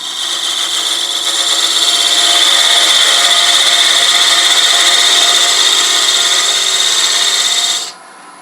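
Lathe hollowing out a walnut box, a continuous bright scraping hiss of the tool cutting the spinning wood, loud and close, steady for about eight seconds before stopping abruptly.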